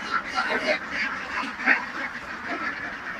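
A flock of ducks at a duck farm quacks nearby, with overlapping calls rising and falling in a continuous chatter over soft background noise.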